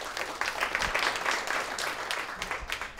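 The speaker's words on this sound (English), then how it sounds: "Let's give her a round of applause." Audience applause at a startup showcase in San Francisco, a continuous, moderately loud crowd clapping for three seconds without speech.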